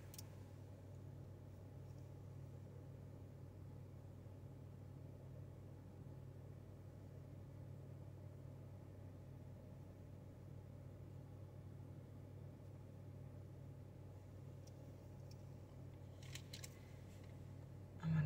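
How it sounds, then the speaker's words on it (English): A car engine idles as a low, steady rumble that hums on unchanged for the whole stretch, faint and distant, with a few soft clicks near the end. "Turn off the car, you guys."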